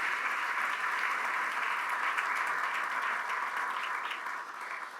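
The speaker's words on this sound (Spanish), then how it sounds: "¿Le parece si les damos un aplauso a los que están por primera vez?" A church congregation applauds first-time visitors, steady even clapping heard somewhat distant and muffled, tapering off slightly at the end with no talk.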